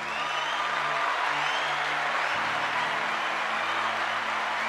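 A church congregation claps steadily for the preacher, a continuous blanket of applause heard alongside sustained organ or keyboard chords that shift midway through.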